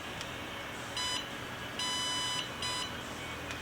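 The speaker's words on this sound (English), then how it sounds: "9 beeps now." A Promatic satellite receiver beeping after its power is plugged back in: three electronic beeps, short, long, short, clear and close over a steady background hiss, with no one speaking.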